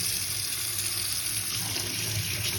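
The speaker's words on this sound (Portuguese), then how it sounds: "Vamos passar uma água, tá?" Tap water runs continuously, rinsing the slimy pump strainer from a Brastemp refrigerator's ice maker in a sink, a steady close splashing hiss with no pauses.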